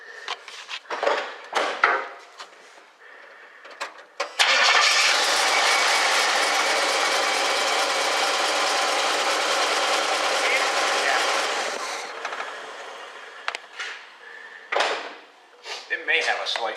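A 1976 Pontiac Firebird Formula barn find with a leaking fuel line cranks and catches, running steadily for several seconds before cutting out, bracketed by clanks and knocks in a garage.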